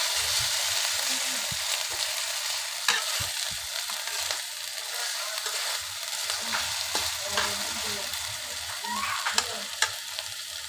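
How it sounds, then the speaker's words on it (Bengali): Onions sizzle steadily in hot oil in a pan, seasoned with salt while cooking for a Bengali egg dish, with occasional stirring clicks over a continuous close frying hiss. "পেঁয়াজটা ভালো করে ভেজে নিতে হবে।"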